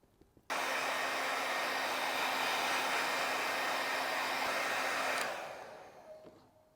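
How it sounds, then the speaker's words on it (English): A hair dryer switches on abruptly and blows with a loud, steady whir for about five seconds while drying dyed leather, then cuts off and winds down. "Obviously the standard hair dryer."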